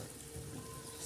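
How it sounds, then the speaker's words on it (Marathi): Gram flour batter for a chilla, mixed with green chillies, coriander and onion, sizzles and hisses steadily on a hot griddle. The crackle is close and even and fills the short moment with no voice. "आणि हे पीठ असं तव्यात आपण टाकणार आहोत."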